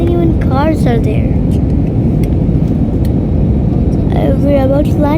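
Cabin rumble from a plane landing at Bombay airport at night forms a loud, steady low roar, while people talk intermittently over it near the start and end.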